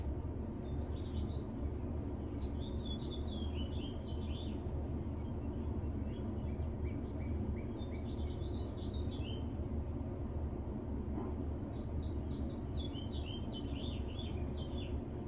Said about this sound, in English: The birds are talking to me.